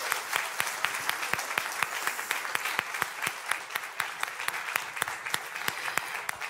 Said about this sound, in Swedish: Ska vi ge Anna-Karin en stor applåd?